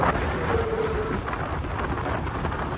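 Strong wind buffets the microphone on a moving TVS Raider 125 motorcycle, a continuous low roaring rumble with gusty fluctuations and no voices.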